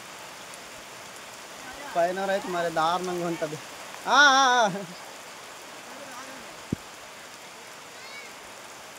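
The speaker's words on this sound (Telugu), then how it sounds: "వర్షంలో తడిసిపోతున్నాము." Heavy rain falls steadily in a forest tribal village near Seethampeta, a broad even hiss of drops running throughout while someone speaks briefly over it.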